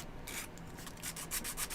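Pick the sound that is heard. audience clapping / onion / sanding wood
sanding wood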